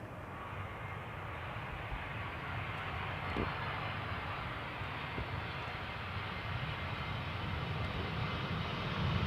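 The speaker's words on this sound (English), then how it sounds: "Air Arabia Morocco landing in the meantime" An Air Arabia Morocco airliner landing on Schiphol's Polderbaan runway on a warm summer day, a steady, broad jet roar that swells slightly toward the end, heard from a distance and without voices.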